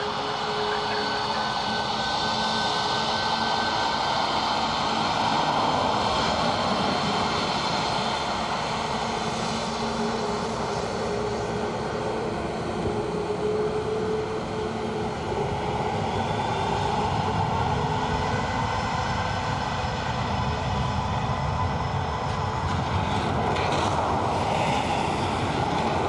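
A KLM airliner landing at Dublin Airport, a steady broadband jet roar that holds fairly constant throughout, heard at a distance with no talk.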